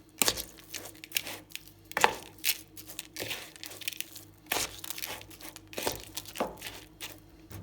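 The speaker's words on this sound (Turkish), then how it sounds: "Artık iç harcımızı karıştırabiliriz." Stuffed cabbage rice filling with a little oil being mixed by hand in a bowl, producing soft, close crunching and squelching rustles in an irregular rhythm, fairly quiet, with no voices.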